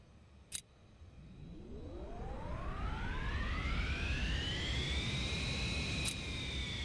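Aircraft jet engines spool up in the VTOL VR flight game, a rising whine that climbs steadily and settles into a sustained roar, with two sharp clicks at the start and near the end.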